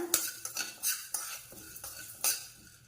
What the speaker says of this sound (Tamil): மிதமான தீ வச்சு வறுத்துக்கோங்க